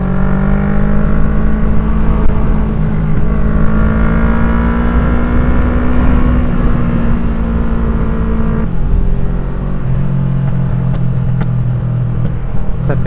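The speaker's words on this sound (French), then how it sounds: "Je suis encore avec la moto de ma soeur." A motorcycle engine running while riding on a sunny road, a loud continuous drone with a steady pitch that rises and falls slightly as the bike moves along, close to the microphone.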